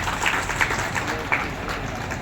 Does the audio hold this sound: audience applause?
yes